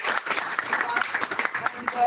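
A conference audience applauding, a short burst of many hands clapping in a dense, even patter at moderate distance, with a voice speaking over it.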